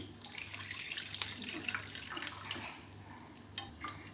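Water for rava idli batter poured into a cooking bowl, a soft continuous splash and trickle with a few light clinks of the bowl.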